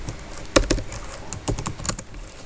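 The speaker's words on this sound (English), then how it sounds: "So I type here" Several quick keystrokes on a computer keyboard as a Linux command is entered in a Kali terminal, arriving in two short clusters of sharp clicks, close and fairly loud, with no talking.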